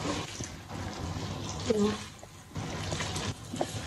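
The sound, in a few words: running water washing saluyot jute mallow leaves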